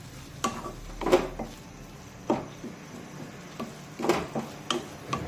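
A spatula stirs dill greens in a kadhai, making a series of separate scraping, clinking strokes at an uneven pace over a soft background hiss.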